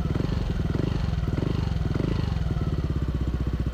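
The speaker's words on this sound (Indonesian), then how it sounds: "Terus ini suara idle-nya." Yamaha Aerox scooter with a K'RACE racing exhaust idling close by, a fast, even low-pitched pulsing putter that holds steady throughout, fairly quiet.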